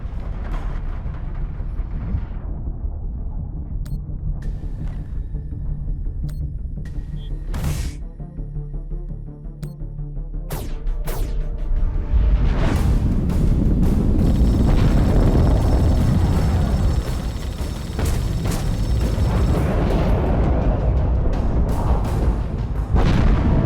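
Space battle in The Expanse video game: sharp launches and booming blasts burst out in the first half, then a loud continuous roaring rumble of explosions and engine thrust takes over and sustains to the end.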